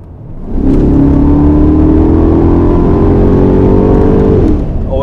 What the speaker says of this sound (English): So let's push the gas a little and see how this car accelerates.